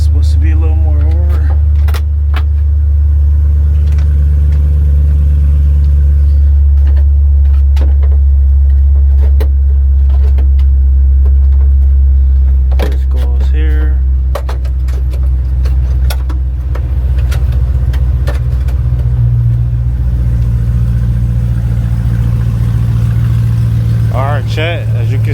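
A rebuilt Scat Pack 300 with a V8 engine starts up and then idles steadily, a loud, deep rumble that holds throughout, with clicks and a person talking briefly.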